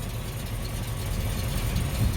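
Nissan R34 Skyline sedan with a GTR body kit but a non-GTR engine, idling as a low, steady rumble at moderate level, with no talk.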